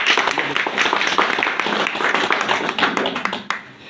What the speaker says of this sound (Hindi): इसलिए आपने एक जबरदस्त ताली बजाई